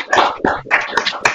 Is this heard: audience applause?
yes